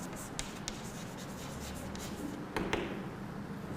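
Chalk or marker writing on a board during a physics class gives soft scratchy strokes with a few sharp taps, faint and steady under a quiet room hiss, with no talking.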